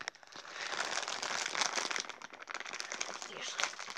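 Plastic packaging of an E.T. plush toy crinkles and rustles steadily for a few seconds, close up, as the package is pulled and torn open by hand.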